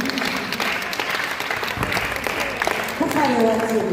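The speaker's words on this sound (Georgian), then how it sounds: "მე მინდა კიდევ ერთხელ ოვაციები" Audience ovation at the close of a preschool musical, a steady wash of clapping that carries throughout, with a voice speaking over it near the end.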